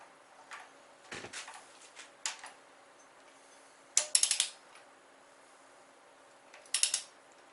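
A wrench torques engine head bolts on an MK4 1.8T, giving sparse mechanical clicks and ratcheting bursts, with a quick clustered run near the middle and another near the end, over a quiet background.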